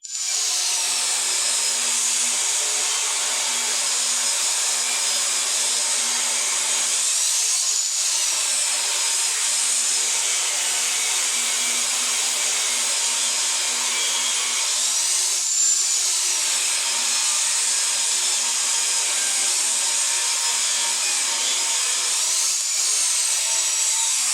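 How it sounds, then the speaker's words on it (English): A power saw rips a maple board along its face grain to a 5/8 inch thickness for coasters, a loud continuous high whine with a few brief dips as the cut progresses, no voices. "saw this along its face grain to get the 5/8 inch thickness I need to match the walnut we just cut"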